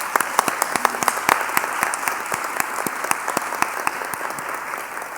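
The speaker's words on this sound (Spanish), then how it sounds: "Un fuerte aplauso, por favor." An event audience applauds, with a steady wash of clapping and distinct individual claps popping out near and far, sustained throughout with faint crowd murmur underneath.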